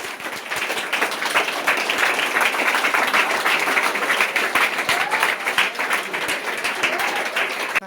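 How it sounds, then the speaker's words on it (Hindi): An audience at an institutional gathering welcomes someone with sustained, dense applause, many hands clapping steadily for about eight seconds without a break. "इसके लिए मैं आप लोगों से कहूँगा कि इसका जोरदार ताली से स्वागत।"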